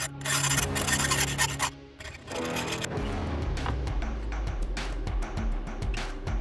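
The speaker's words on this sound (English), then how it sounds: "We need to split with a hacksaw down the middle so we can make a rudder blade connection" A hacksaw cuts down the middle of a 1/8-inch steel shaft in a workshop, producing close, rhythmic rasping strokes that repeat steadily and loudly, with a short pause partway through and no talking.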